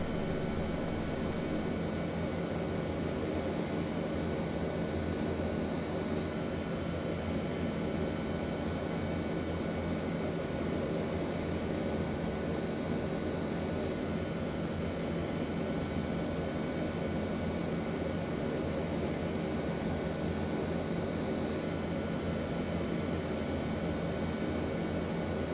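Steady, unbroken drone of a Hawker HS748 turboprop's engines in the Prepar3D flight simulator game, a dense broadband roar with a faint high whine running evenly throughout, with no talking.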